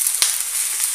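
Cut vegetables dropped into hot oil in a frying pan and stirred, a bright, continuous sizzle with a sharp crackling burst near the start.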